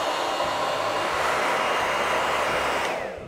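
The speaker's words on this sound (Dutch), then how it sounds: "Dit is voor mij ook de allereerste keer dat ik spek aan het drogen ben met een haardroger." Hair dryer blowing a steady, loud, continuous roar over pork belly skin while drying it for crackling, holding level throughout before its pitch drops and the sound fades at the very end.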